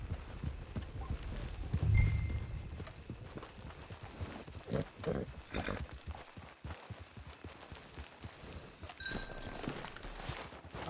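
Horse hooves clip-clop in a steady walking rhythm in Red Dead Redemption 2 Online, moderately near, with a brief low thump early on and faint ambient game sounds behind.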